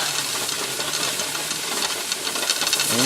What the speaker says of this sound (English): that head of steam has really gotten going good. There's the solid jet.